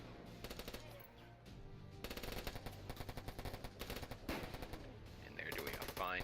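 Rapid automatic gunfire from a rifleman squad in the video game Warfare Online, dense bursts of rattling shots in quick succession with brief pauses between volleys, loud and close.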